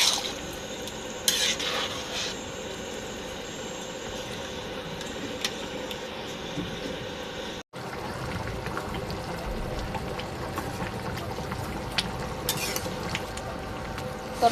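Curry stirred in a pot after salt goes in, a steady low scraping and bubbling texture running throughout with a few brighter utensil clinks near the start and toward the end, close and moderately quiet with no talking.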